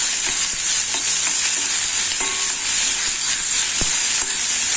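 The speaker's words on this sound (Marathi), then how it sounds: "2 मिनिटं कांदा आपण ढवळून घ्यायचा आहे" Onion stirred and frying in a pan for a Malvani-style dried shrimp dish, a loud steady sizzle and hiss with intermittent scraping taps of the stirring spoon, close and continuous.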